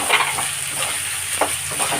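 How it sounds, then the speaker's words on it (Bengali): Onion, capsicum, tomato and green chili fry and sizzle in hot oil, giving a steady close crackle with a few stirring scrapes and no voices. "এগুলো এবার আমি তেলে ছেড়ে দিচ্ছি।"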